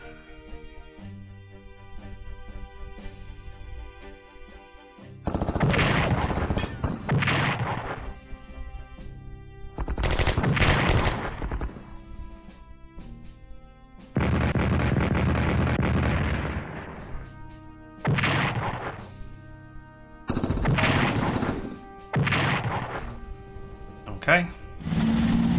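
Rockets and gunfire trade blows in a wartime strategy video game, several separate loud bursts of explosions and firing spaced across the stretch, with background music and game tones between them.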